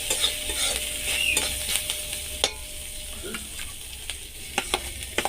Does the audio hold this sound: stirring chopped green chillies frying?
yes